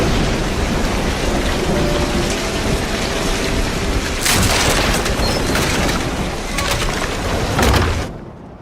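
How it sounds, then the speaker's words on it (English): A heavy storm with steady loud rain and rolling thunder, a strong thunder rumble swelling midway and again near the end before cutting off. "The thunder startled me."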